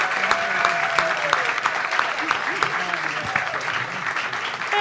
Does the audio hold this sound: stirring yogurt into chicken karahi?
no